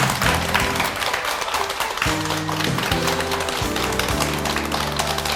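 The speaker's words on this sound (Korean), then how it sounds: "여러분 박수로 환영해 주십시오." Studio audience applause welcoming a guest onto a Korean TV medical programme, a continuous dense patter of clapping blended with a loud musical fanfare.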